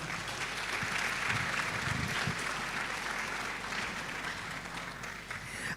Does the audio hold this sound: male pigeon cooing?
no